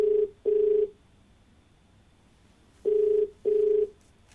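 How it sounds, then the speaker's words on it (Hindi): A telephone ringback tone sounds as a TV show calls a viewer: two pairs of steady double-burst rings, clear and alone, with a pause between them. "फोन लगाते हैं अपने दूसरे दर्शक को।"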